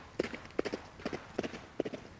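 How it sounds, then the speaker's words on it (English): A horse moves across a yard, with clear, close hoofbeats landing in quick repeating groups of clip-clop, crisp and steady throughout. "I hear the gallop of a horse"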